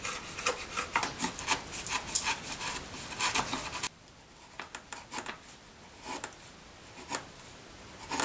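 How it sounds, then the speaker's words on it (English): A woodworking chisel paring thin slices from a piece of wood held in a vise, giving close, repeated scraping and shaving strokes, busy for the first few seconds, then sparser, fainter cuts. "to take just small slices of wood. When you're paring, that's the secret, just small slices of wood."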